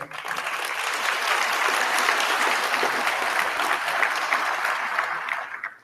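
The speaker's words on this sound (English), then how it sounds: "I think we should give our graduates a round of applause" Graduation ceremony audience giving graduates a round of applause, a dense, steady roar of many hands clapping that holds evenly for several seconds before fading at the end.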